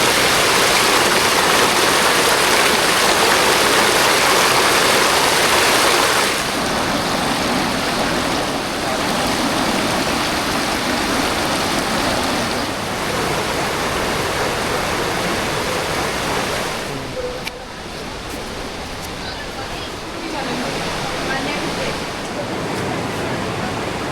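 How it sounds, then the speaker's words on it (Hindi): A river rushes steadily near Jibhi in the Himalayan hills, a loud, constant roar of flowing water that eases slightly partway through and carries on without a break. "इधर से ही मैं वो नदी के बहने की आवाज़ सुन सकती हूँ"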